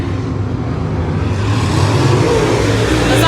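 A dirt track race car engine roars during hot laps at Senoia Speedway, a loud, rough low rumble that swells slightly toward the end, with faint wind noise.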